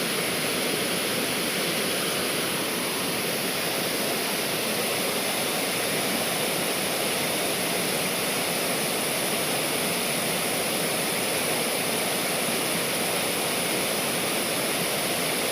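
Kothapalli waterfall pours down in a loud, dense, unbroken roar of crashing water that stays constant from start to finish, with no voices over it.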